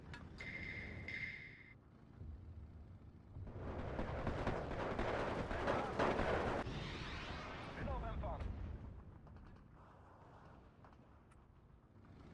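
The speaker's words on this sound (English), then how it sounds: "Let's just pop that with a rocket strike." Rocket strike landing in the WWII strategy game Steel Division 2 Vistula campaign: a heavy, rolling barrage of explosions builds and rumbles for several seconds, dense and booming, then fades into lower battlefield noise.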